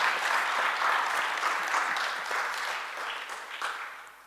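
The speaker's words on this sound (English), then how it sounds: "So should we end with a big applause for Görel and our colleagues?" Audience at the closing session of a conference claps steadily, a dense wash of applause that fades slightly toward the end.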